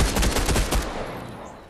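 A quick, close string of about eight pistol shots in Fortnite Chapter 3 cracks out in rapid succession, then fades into a short decaying tail and quiet.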